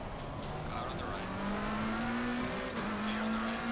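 Race car engines drone steadily in Assetto Corsa Competizione at Suzuka, a rival car running close alongside, with a rising engine tone and continuous road and tire noise.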